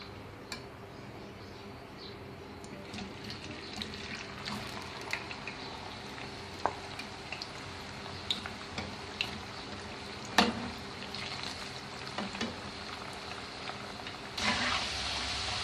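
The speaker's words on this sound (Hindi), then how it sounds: "अब हम इनको फ्राई कर लेते हैं" Frozen potato French fries deep frying in hot oil, a quiet steady sizzle with scattered small pops and crackles throughout, close but faint, with no voices.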